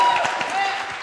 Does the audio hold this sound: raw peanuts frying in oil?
no